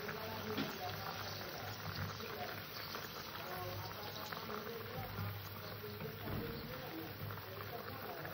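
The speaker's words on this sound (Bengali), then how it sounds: "ঢাকা দিয়ে আলুটাকে সুন্দর করে ফুটিয়ে সেদ্ধ করে নেব" Potatoes with green chillies boiling in a covered pot, a faint steady bubbling and rain-like patter of simmering liquid heard from close by.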